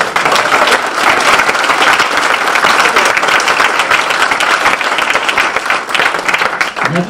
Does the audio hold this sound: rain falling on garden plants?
no